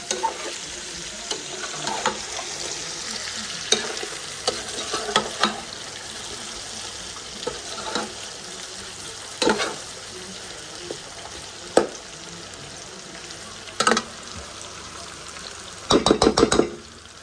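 Tomatoes frying and stirred in a pan for rougail saucisse, a soft continuous sizzle broken by intermittent spoon knocks and scrapes, with a louder burst of clatter near the end.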